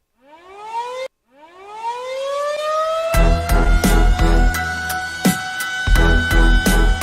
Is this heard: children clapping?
no